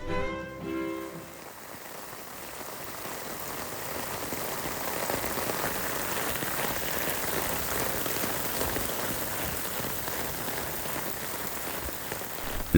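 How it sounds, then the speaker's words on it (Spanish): Steady rain patters densely and continuously on an umbrella, a close, even drumming hiss that runs unbroken with no voices. "la lluvia cayendo sobre el paraguas"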